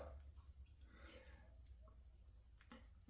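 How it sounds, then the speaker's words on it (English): A constant high-pitched trill of feeder crickets chirping close by, steady and unbroken, over faint background noise. "you'll be dealing with crickets, and as you can hear, they are quite loud"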